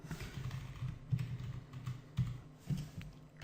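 Close, moderately quiet computer keyboard typing while entering PHP and MySQL code, with irregular bursts of key clicks and a few louder taps.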